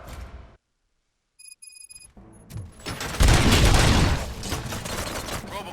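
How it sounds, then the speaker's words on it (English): Gunfire in the shooter game RoboCop: Rogue City breaks out after a brief silent gap, building into a loud, dense burst of shots and impacts, with faint high electronic tones beforehand. "Gunshots? What's going on?"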